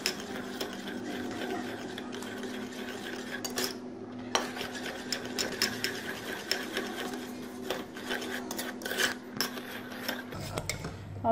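A spoon stirs a thickening custard-like mixture in a cooking pot for a fruit trifle, giving a steady mechanical whir with frequent close clinks and scrapes against the metal, ending in a brief quieter stretch.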